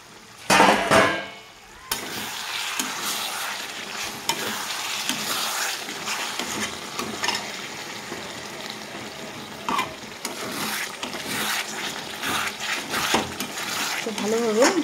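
Mutton kosha curry stirred and turned in a pan, a steady close-up scrape and sizzle of spoon against metal with clattering strokes running throughout, loud at first and then holding even.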